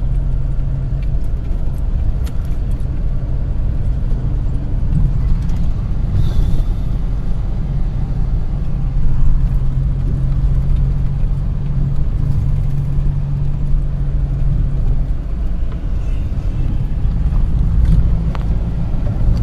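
Car driving across a road bridge over the Ganga river near Patna, with a steady, loud engine and road rumble mixed with wind buffeting throughout, with no talk.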